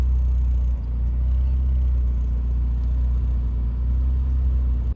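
A project car engine runs steadily at a loud, close, deep rumbling idle, with no talk.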